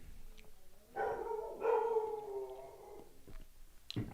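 Dogs barking and howling in a drawn-out, yowling burst from mid-distance, two loud rising calls lasting about two seconds, then quieter yips and a sharp bark at the end.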